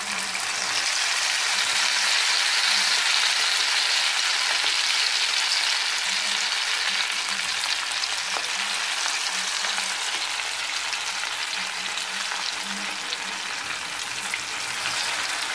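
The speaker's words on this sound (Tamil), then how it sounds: "அப்போதான் நல்லா இந்த சிக்கன் வந்து ஃப்ரை ஆகும்" Chicken pieces frying in a pan, a dense, even sizzle that runs continuously and loudly throughout with faint crackles and no pauses or speech.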